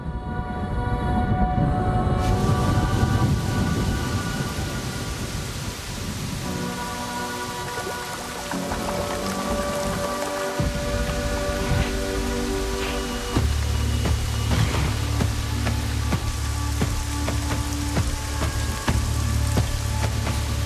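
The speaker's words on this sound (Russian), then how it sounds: "наконец, начались дожди" Heavy rain from a thunderstorm pours down steadily, a dense, close hiss of falling water with sharper spatters and drips in the foreground and a deep rumble underneath through the later part.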